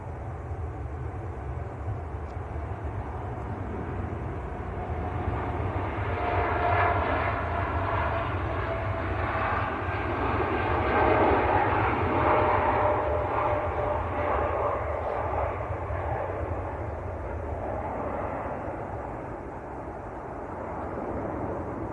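Airbus A350 airliner at Manchester Airport in winter during de-icing, giving a steady low jet engine roar that rises and falls gently over about twenty seconds at a moderate distance.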